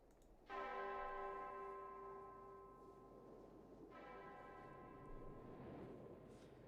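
A clock tower bell in the video game Remember 11 strikes twice, each loud, ringing toll hanging and fading slowly over a wind-like wash of background noise.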